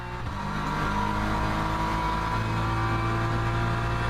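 A race car engine in Le Mans Ultimate drones steadily at high revs throughout, loud and continuous, with a brief dip near the start before it settles into a sustained, tonal roar.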